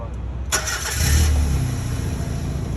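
A 1991 Mazda Miata (Eunos Roadster) engine cranks briefly and catches, then settles into a steady low idle close by.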